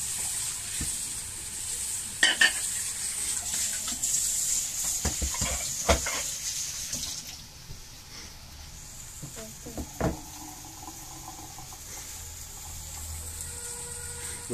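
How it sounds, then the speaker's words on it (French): Meat heating in a pot for Moroccan couscous gives a steady high sizzle that fades partway, broken by a few sharp clinks and scrapes of utensils against the pot. "Pendant ce temps-là, la viande elle est en train de chauffer."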